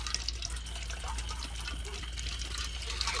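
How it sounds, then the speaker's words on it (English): Water from a tap trickles and drips steadily in a continuous close wash, with a faint low hum underneath. "That's just the water dripping down."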